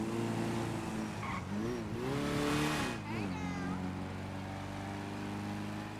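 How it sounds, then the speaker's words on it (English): A car engine in the GTA V NoPixel roleplay game is pinned at redline, holding a steady high-revving drone with brief pitch dips and a tire-squeal swell midway, loud and continuous. "The engine is constantly redlining."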